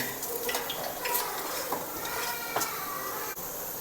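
Mutton being stirred as it cooks in a pot at home, with a steady sizzle under repeated scraping and clinking of a metal spoon against the vessel, fairly close and moderately loud.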